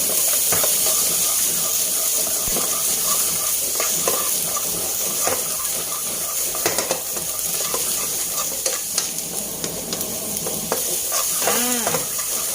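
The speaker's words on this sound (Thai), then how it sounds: "เร่งไฟแรงแล้วก็ผัดเร็วๆค่ะ" Long beans with salted egg stir-fried fast over high heat, a steady loud sizzle with rapid spatula scrapes and clanks against the pan throughout, no voices.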